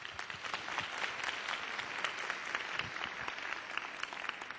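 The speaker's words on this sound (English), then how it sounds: "Let's have a nice round of applause for Dan." An audience applauds Dan at a talk on catechesis, a steady wash of many hands clapping at moderate volume for several seconds, with no voices over it.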